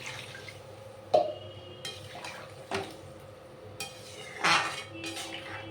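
Potatoes and water going into a cooking pot for a vegetarian dish: a few separate clanks and knocks of pot and utensil with small splashy drips between, quiet and close against a faint hum.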